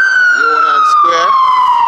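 An ambulance siren wails loud and close on a downtown Manhattan street at Union Square, a steady descending tone with strong harmonics, while a voice briefly talks over it.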